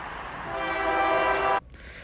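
A BNSF freight train's horn blares loud and close as the train passes, a steady harmonic blast lasting about a second and a half before cutting off sharply into quieter rail noise.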